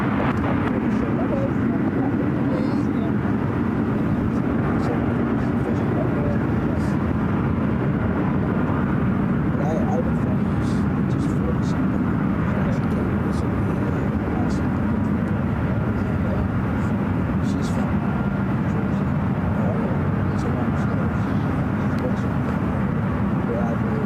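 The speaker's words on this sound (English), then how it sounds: "more than likely this 777-300ER will be taken off on runway 28 left, heading back to Tokyo Narita" A Boeing 777-300ER airliner at SFO, due to depart for Tokyo Narita, sends a steady, heavy jet engine roar across the airfield for the whole stretch, with a voice talking over it.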